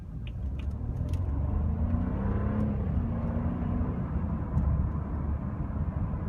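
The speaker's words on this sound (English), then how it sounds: "So here we'll do a half throttle acceleration to 40." A BMW 328i with upgraded 18-inch wheels accelerates at half throttle to 40 at night, heard from inside as a steady engine drone and road rumble with a gently rising tone.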